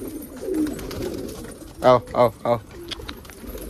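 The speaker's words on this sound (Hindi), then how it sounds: "अब पूरे में घूमते कबूतर मस्त, अब पूरे में टहलते हैं।" Pigeons coo on a rooftop in a few soft, close, rounded calls, with a short run of three louder pulses partway through, while a man calls out to the birds.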